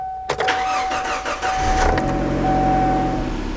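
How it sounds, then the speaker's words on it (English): A Kia Sportage engine cranks briefly, catches and settles into a steady, close idle with a faint whine running through it. "let's go ahead and start the car"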